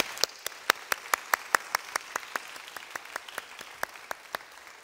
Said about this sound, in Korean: 영광의 박수로 박수하겠습니다.